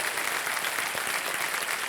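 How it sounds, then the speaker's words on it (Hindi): Studio audience applause on a televised quiz show set, a dense, steady wash of many hands clapping loudly and continuously throughout, with no talk over it. "जोरदार तालियां बज जाए शुभ्रा जी के लिए"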